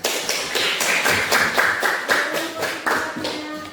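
Applause from a group of people in a classroom, many hands clapping briskly and steadily for a few seconds, fairly close and lively.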